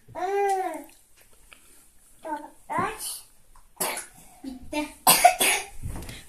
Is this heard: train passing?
no